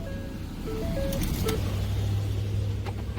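A Ford Focus engine runs at a steady idle with a low constant hum, while several short electronic beeps and chimes sound over it early on and a few clicks follow.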